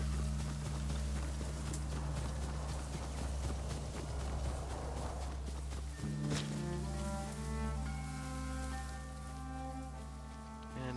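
Horse hooves clip-clop in a steady rhythm over a low droning hum, with a brief thump midway before the hoofbeats continue, from the video game Ghost of Tsushima Director's Cut (Iki Island) on PS5.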